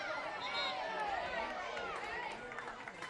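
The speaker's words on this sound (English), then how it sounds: "you're going to hear the crowd from the Canberra fans already" Canberra United supporters at a women's A-League football match, a broad, continuous crowd roar of cheering and chanting with a commentator talking over it.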